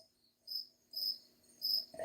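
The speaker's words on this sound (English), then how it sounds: "Tell the crickets to keep it down." Crickets chirping at night, three short high trilling bursts spaced about half a second apart against a quiet background, with a brief low sound at the end.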